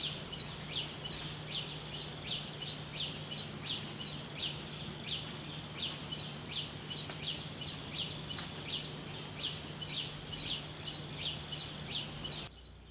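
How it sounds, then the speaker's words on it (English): A long-tailed hermit hummingbird sings in deep forest, repeating a thin, high, sharp note at a steady pace of roughly one every half second, moderately close over a quiet background with a faint low hum. "A second hermit is singing nearby."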